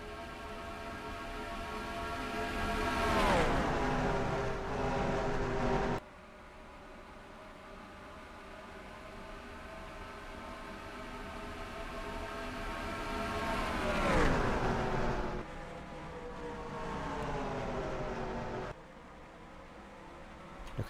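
Race cars in the NASCAR Racing 2003 video game at Pocono produce a steady engine drone, with two cars roaring past and pitch sweeping down as they go by; no one talks.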